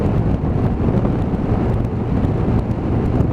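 Wind roaring steadily and loudly across a motorcycle rider's microphone, close and continuous, with no talking.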